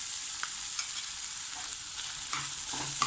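Ginger and garlic paste sautéing in a pan, a steady bright sizzle with occasional soft scrapes of stirring, close and continuous, no talking.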